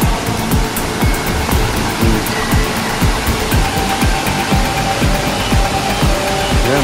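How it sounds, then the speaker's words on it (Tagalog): Heavy rain pours down steadily during Typhoon Kristine in Bicol, a dense continuous roar with a loud, even wash and no talk. "buhos ng ulan"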